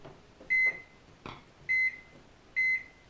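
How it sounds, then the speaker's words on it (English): A microwave heating soft plastic for fishing baits hums quietly, then beeps three times with evenly spaced, sharp electronic tones; a soft clunk sounds between the first and second beep. "next step is putting in the microwave"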